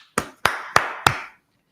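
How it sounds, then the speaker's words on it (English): Four sharp, evenly spaced hand claps ring out close and alone at a Brotherhood class gathering, each clap followed by a short decaying reverb tail before silence. "Let's clap it up for that."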